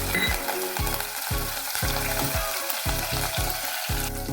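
Black pepper, cumin, cashews and ginger crackle in hot oil for wheat semolina pongal, a loud dense sizzle with repeated rhythmic scraping strokes of a spoon across the pan.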